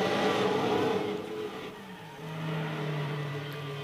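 A 2000 Corvette C5R race car engine in Gran Turismo 4 roars, its pitch dropping as it shifts and then climbing again, a continuous loud mechanical whine with no voices.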